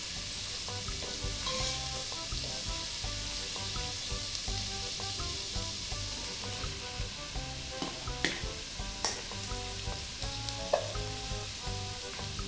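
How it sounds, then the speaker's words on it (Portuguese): Onion sautés in margarine in a pan, giving a steady close sizzle with occasional sharper pops and stirring sounds, with light music playing underneath. "A margarina, além de servir para a gente refogar a cebola"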